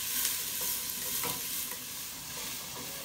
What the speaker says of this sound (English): then I'm going to add the spices to fry off the spices, release those lovely oils